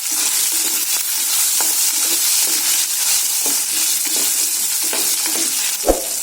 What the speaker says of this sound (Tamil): சுண்ட வத்தல் நல்லா பொரிஞ்சதுக்கு அப்புறமா வெங்காயம் சேர்த்துக்கோங்க.